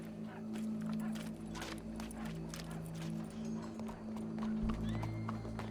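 In Red Dead Redemption 2, a horse neighs and whinnies amid clopping hooves, set against sustained low music, with a brief voice in the background.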